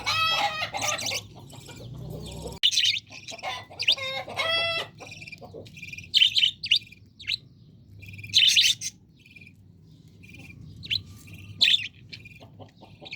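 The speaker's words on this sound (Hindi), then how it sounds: "ओ भाई साहब के मुर्गे आपस में लड़ पड़े हैं" Agitated clucking and sharp squawks from roosters fighting, in scattered bursts, with chirping birds in the background and no talking.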